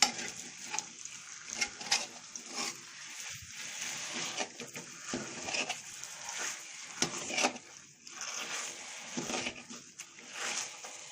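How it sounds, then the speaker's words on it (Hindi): Makhandi halwa is stirred and roasted in cooking oil in a pan, with a steady sizzle and repeated scraping strokes of the spoon through the thick mixture, close up and continuous, with no talking. "अभी ये कच्चा है, इसकी हम भुनाई कर रहे हैं।"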